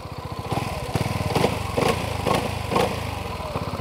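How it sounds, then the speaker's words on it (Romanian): A BMW C400GT scooter's single-cylinder engine runs close by with a fast, chugging putter, its throttle blipped several times in a regular rhythm. "Asta este un motor monocilindru, asta înseamnă că se aude"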